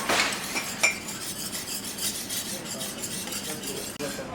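Lemon juice, salt and herbs being mixed into a vinaigrette, with a continuous light scraping and clinking of a utensil against a bowl, close and steady, without talk.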